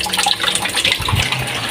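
Water poured into a pot of chopped chop suey vegetables, a brief close gush and splash that swells toward the end.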